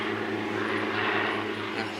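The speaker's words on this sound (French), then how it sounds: "il y a un mec qui fait des tours en hélicoptère depuis tout à l'heure" A helicopter circles overhead giving tours, its engine and rotor producing a continuous low droning hum that holds steady and fairly loud throughout, with no voices over it.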